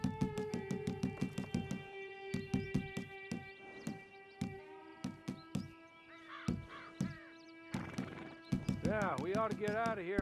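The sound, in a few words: horse clip-clopping and neighing in video game Red Dead Online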